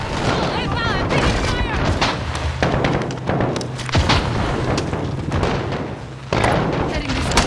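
Heavy gunfire and booming blasts in a Call of Duty Warzone co-op mission set in Verdansk, loud and near, with repeated shots and thuds layered under shouted voices.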